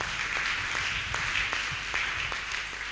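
A church congregation claps hands for Jesus during an altar call sermon, a dense, steady wash of many hands with a few sharper claps standing out, moderately loud and continuous throughout.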